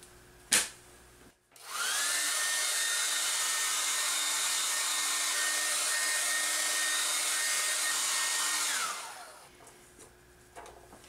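A hair dryer blows steadily for about seven seconds to dry a wet watercolor cityscape painting on paper, a loud continuous whine and rush of air that starts and cuts off cleanly, with no talking.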